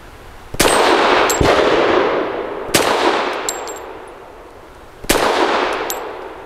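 Three loud pistol shots from a Grand Power P45L ring out at spaced intervals, each one clanging off a moving steel target, with the metallic ring decaying slowly after every hit.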